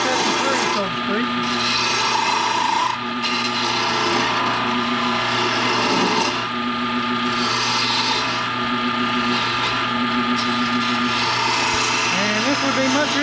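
A gouge hogging material from a wooden snowman carving, giving a steady, close rasping and scraping with repeated strokes, mixed with talking and a constant low hum.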